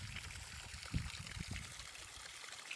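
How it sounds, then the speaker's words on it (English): Clear water flowing out of a pool iron filter, a soft continuous trickle and splash with a few louder gurgles, fairly quiet and close, with no talking. "That's crystal clear water coming out of there."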